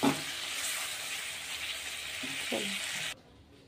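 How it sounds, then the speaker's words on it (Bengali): Butter-coated spice mix sizzles in a hot pan with chicken, a steady close frying hiss with a couple of brief stirring scrapes, before dropping away near the end. "মশলাটা দিয়ে দিলাম, যেটা বাটার দিয়ে মাখানো ছিল, দিয়ে এটা একটু কষে নেবো"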